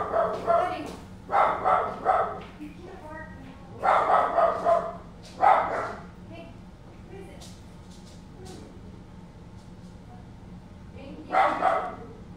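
A dog barks in several short loud bursts, a few quick barks at a time with pauses between, close by, while people talk in the background.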